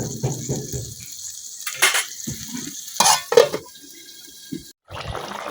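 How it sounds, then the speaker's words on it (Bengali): A fish curry with spinach and boiled potatoes is stirred and fried in a pan. Bursts of sizzle alternate with scraping and clattering utensil strokes, separated by short quiet gaps. "এখন আবার কিছুক্ষণ কষাই নেন।"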